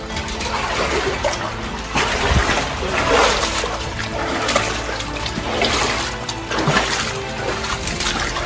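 Water sloshes and splashes continuously as someone wades out of water inside the Non Pareil Mine, with dripping and trickling, echoing in the enclosed space.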